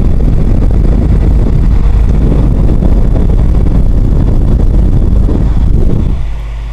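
A ceramic heater's blower runs loud and close, a steady roaring whoosh of air with a low throbbing wobble from a slightly off-balance fan, cutting down to a softer hum at the end.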